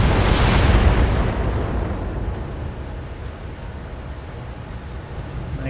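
Heavy explosions from weapon hits strike a trebuchet mech in the Battletech video game, a loud broad boom at the start that decays into a long rumbling tail with no voices.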